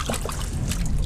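Skate wings rinsed in seawater over the side of a boat, a brief close trickling and sloshing of water with no voices.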